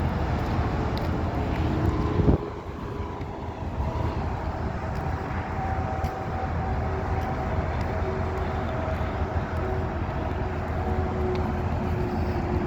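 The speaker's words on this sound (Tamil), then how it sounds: "ஃப்ளைட் ஒன்று போகுது." An airplane passes over a highway truck parking area in France, producing a steady broad roaring drone with faint sustained tones that continues for the whole stretch, after a short louder thump near the start.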